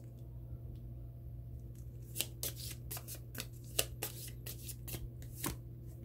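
A deck of oracle cards is shuffled for a reading, giving a series of crisp riffling and slapping bursts over a low steady background hum, close and moderately quiet, with no talking.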